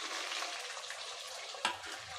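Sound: onions sautéing in hot oil

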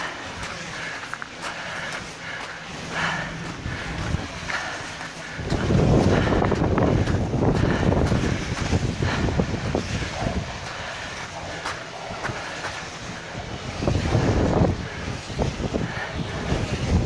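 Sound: wind blowing at a wind farm

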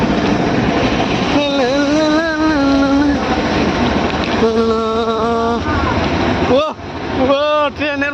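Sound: passing train

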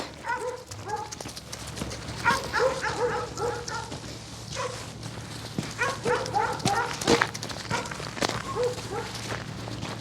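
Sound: dog on a farm

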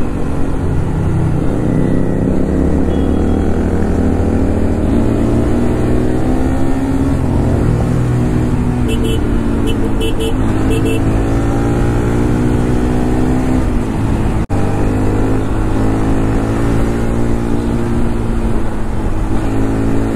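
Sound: Royal Enfield Continental GT650 motorcycle riding

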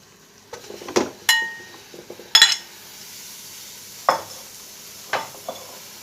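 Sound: pork sizzling as it is added to a hot pan

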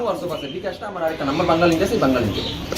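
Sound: pigeons cooing at a pigeon farm

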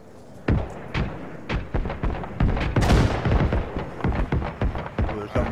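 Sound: grenade explosion in a video game

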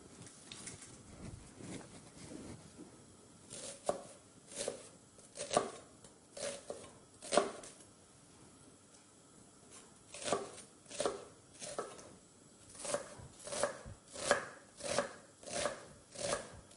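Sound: chopping onion with knife

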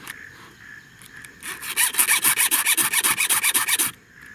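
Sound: filing chainsaw chain teeth with 4 mm round file

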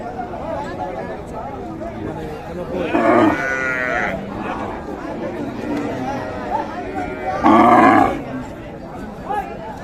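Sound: cow lowing at a cattle market

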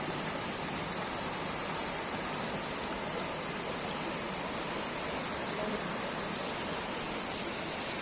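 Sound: small waterfall

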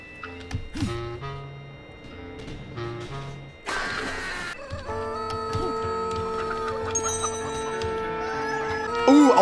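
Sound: chicken clucking in a video game (ALTF4)

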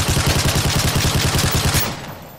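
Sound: toy robot weapon gunfire sound effects in stop-motion animation

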